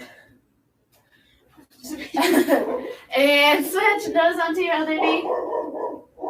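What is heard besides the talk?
dogs barking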